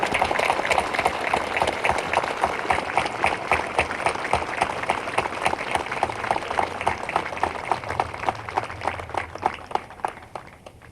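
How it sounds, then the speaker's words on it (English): Sustained audience applause at an Honor Flight veterans' ceremony, a dense steady wash of many hands clapping for about eleven seconds with no talk over it. "Please join me in thanking this caring couple for their dedication to children and Dave's service."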